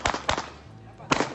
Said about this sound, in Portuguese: Escutem os tiros, a quantidade de tiros.